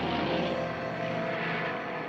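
Propeller airplane engine drones steadily in a King Kong film scene where model planes attack the model Kong, a continuous close buzzing hum without talk.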